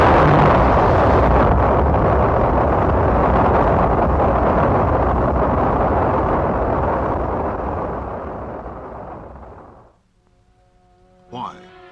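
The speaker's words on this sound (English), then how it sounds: "This launch carried an Earth satellite into orbit." A rocket launch carrying an Earth satellite into orbit: a loud, sustained roaring rumble that slowly fades away over about ten seconds, followed by near silence and a brief tonal sound at the end.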